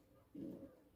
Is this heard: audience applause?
no